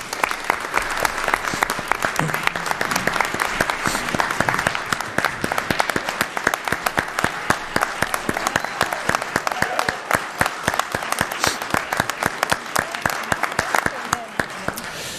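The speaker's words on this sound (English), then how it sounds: "if we could just give a round of applause to Denny for serving his town" Audience applause fills a town deliberative session in Wakefield, New Hampshire, steady dense clapping from a crowd lasting the full span at even loudness, with no speech over it.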